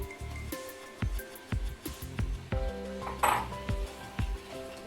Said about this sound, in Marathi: आता यामध्ये आपण ओलं खोबरं टाकून घेऊया.